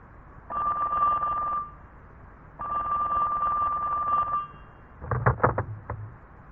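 A telephone rings before a call to a student housing office, with two long electronic ring tones separated by a pause, followed by a short click-like rattle as the line is picked up.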